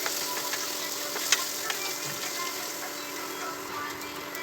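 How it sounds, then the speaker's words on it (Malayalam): Beef kurma ingredients frying in a pan over a village cooking fire in Ooty: a steady, continuous sizzling hiss at moderate volume, with a few faint clicks and no talking. "കുറച്ച് നല്ല ഫ്രൈ ആവട്ടെ."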